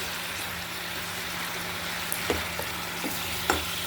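Malabar spinach greens sautéing in a pan, a soft steady sizzle with occasional stirring scrapes and light taps of a spatula toward the end.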